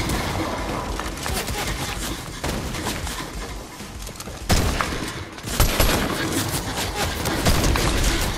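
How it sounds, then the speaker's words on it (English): Rapid gunfire in the video game Fortnite: dense, overlapping bursts of shots that run the whole time, growing louder and busier about halfway through. "Who is shooting at me?"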